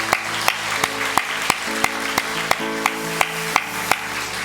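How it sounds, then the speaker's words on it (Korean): Sharp, evenly spaced claps ring out about every third of a second in a church congregation at an Easter Sunday service, a steady rhythmic beat with a sustained musical tone underneath. "우리 예수님께 영광의 박수 한번 올려드리시고."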